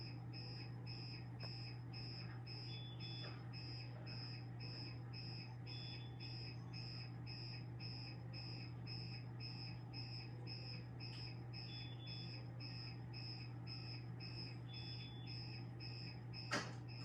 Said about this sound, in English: I'm now going to reset this fire alarm system because I've now got things going crazy in the house